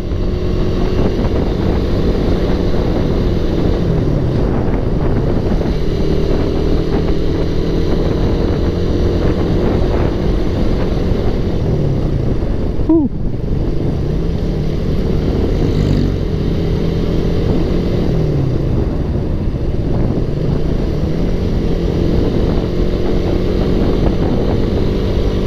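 Motorcycle ridden at full throttle on a solo road tour, a continuous loud engine drone with heavy wind buffeting over the whole run and a brief dip in the middle, no talking.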